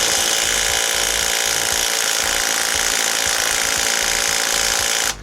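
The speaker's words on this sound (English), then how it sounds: "this is a Craftsman Impact, because he claims it'll remove any stuck lug nut" A Craftsman impact wrench hammers at a stuck lug nut on a 1967 VW Bus during a frame restoration, giving a loud, continuous rattling burst close by that stops abruptly at the end.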